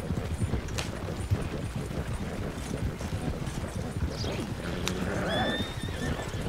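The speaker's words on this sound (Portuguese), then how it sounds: "Os cavalos me seguindo." Horses in the video game Red Dead Redemption, steady hooves pounding at a gallop with a shrill whinny near the end, close and loud over continuous movement noise.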